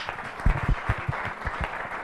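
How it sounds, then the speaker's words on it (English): Applause from a small audience at a business English course for a participant about to present; sparse, uneven clapping from a few people, moderately close, with individual claps distinct rather than a dense roar. "Please give a round of applause for Mohammad Danish."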